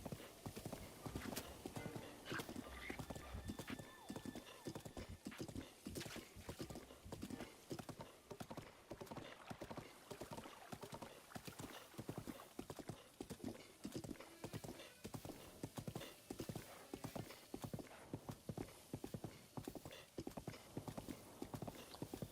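A horse gallops in Breath of the Wild with rapid, continuous hoofbeats over a long stretch, close and busy, with occasional neighs rising above the drumming.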